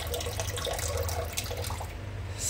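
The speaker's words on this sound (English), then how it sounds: "you just want to strain off that water." Dirty water being strained off live blackworms in a sink: a steady, close splashing pour and trickle with a low rumbling undertone, continuous for a few seconds before tapering off.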